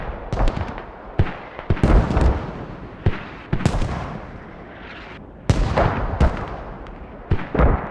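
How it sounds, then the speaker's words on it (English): Mortar shells burst around a building in the video game Squad, with a string of loud, booming impacts at irregular intervals, some sharp and near, others duller and farther off. "Mortars are landing all the way around this hab."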